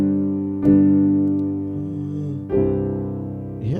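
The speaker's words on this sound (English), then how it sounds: "on the 5 chord, which is G on C," Piano sounding a sus4 chord on the five chord, G over C, struck close and clear with two separate attacks that ring and fade, then another chord beginning right at the end; no one speaks.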